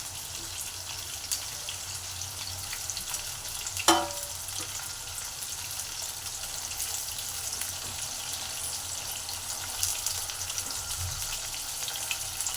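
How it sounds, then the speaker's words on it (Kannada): Bitter gourd pieces frying in a pan, a steady soft sizzling hiss that stays even throughout, with one brief clatter near the start, quiet and close with no talking. "ಆಗ್ಬಿಟ್ಟು ಸ್ವಲ್ಪ 2 ಸತಿ ಹಾಕ್ಕೊಂಡು ಫ್ರೈ ಮಾಡ್ಕೊತಾ ಇದ್ದೀನಿ."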